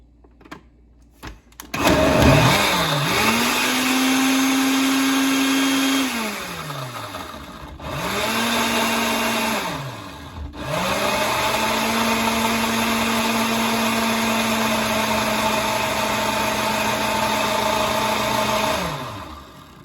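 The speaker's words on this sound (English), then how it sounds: "so my blender is not blending." A kitchen blender whirs loudly in three bursts, each spinning up then settling into a steady whine before cutting off, struggling to blend apples for cider vinegar.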